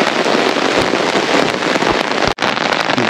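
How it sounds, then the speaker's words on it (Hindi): Heavy rain pours down loudly and continuously, a dense hiss close by with a brief dropout near the end. "देखिए बहुत तेज बारिश हो गई दोस्तों"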